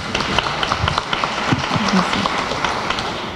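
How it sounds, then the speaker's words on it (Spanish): Listeners at an academic talk on violence and migration applaud a speaker, a crowd of hands clapping in a continuous, fairly loud wash that fills the room. "Un aplauso."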